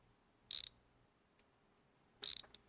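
Two short metallic ratchet bursts, about two seconds apart, from a ratchet wrench loosening the bolts on a worn leaf spring suspension; each is crisp and close, with quiet in between.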